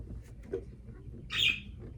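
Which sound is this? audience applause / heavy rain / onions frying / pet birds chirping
pet birds chirping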